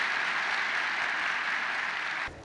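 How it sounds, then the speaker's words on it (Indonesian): Applause from a university audience at Universitas Bunda Mulia Kampus Serpong, a dense steady clapping that fills the space evenly and then cuts off abruptly near the end. "tepuk tangan sekali lagi untuk kita semua."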